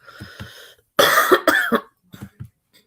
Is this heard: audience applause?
no